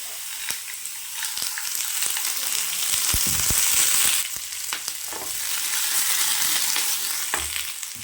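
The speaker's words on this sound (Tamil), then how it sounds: "வெங்காயம் நல்லா வதங்கிடுச்சு." Small shallots (pearl onions) sizzle loudly in a pan for mutton curry, a bright continuous frying hiss with occasional scraping stirs and clatters, close and alone without speech.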